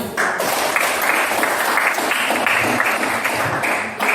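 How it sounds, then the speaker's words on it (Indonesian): Classroom applause for a fellow student, a steady wash of many hands clapping that runs the full length at even loudness, with a faint voice underneath. "Oke, kasih aplaus untuk teman"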